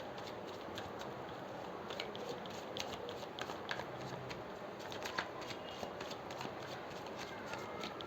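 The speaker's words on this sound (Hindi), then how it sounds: "ये देखिए आपके कार्ड्स खुद फ्लिप हो रहे हैं, लेकिन 3-3 है, हम एक एक करके लेंगे" Tarot cards being shuffled and flipped give a continuous soft papery riffling with quick small flicks throughout, close and fairly quiet over a steady background hiss.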